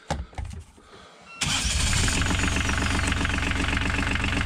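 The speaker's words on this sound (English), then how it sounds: "Start the engine." After a few quiet clicks and faint knocks, a marine diesel engine on a boat cranks and catches, then settles into a loud, steady, throbbing idle that continues to the end.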